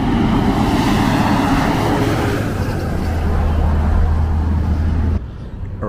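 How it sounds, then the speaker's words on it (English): Semi truck rolling past on a road beside a tram route near a monorail beam, a loud steady low engine rumble and road roar that swells and holds before cutting down sharply near the end. "Check out this semi truck."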